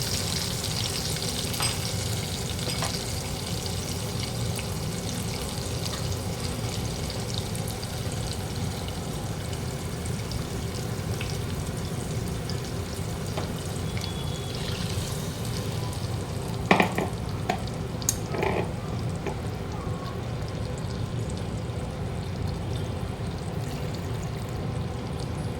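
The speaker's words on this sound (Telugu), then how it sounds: "ఇప్పుడు దీంట్లో పేస్ట్ చేసి పెట్టుకున్న పాలకూరని ఇందులో కలిపేద్దాం. ఇప్పుడు ఇందాక వాటర్ తీసాం కదా, ఆ వాటర్ కూడా మిక్స్ చేద్దాం" Spinach paste and water for palak paneer are stirred in a frying pan, giving a long, even bubbling sizzle with soft scraping and a few clinks of a spoon against the pan near the middle.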